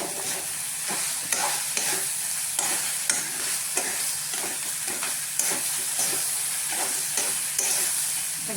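Rice is stirred in a frying pan for an egg rice lunch, with a steady sizzle under repeated scraping strokes of a spoon at a regular rhythm, close up and alone.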